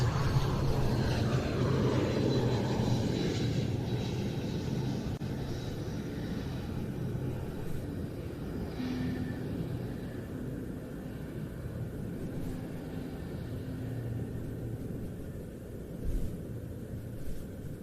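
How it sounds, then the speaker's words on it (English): A Mirage 2000 jet arriving at an air show, a distant broad engine roar that slowly recedes into a steady low rumble. "It's a very pretty aircraft, the Mirage 2000."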